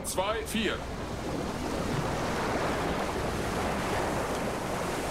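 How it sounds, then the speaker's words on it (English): Waves and rushing water as a U-boat dives in Silent Hunter 3, a steady broad wash of surf and wind that follows a brief burst of voices at the start. "We are slipping beneath the waves."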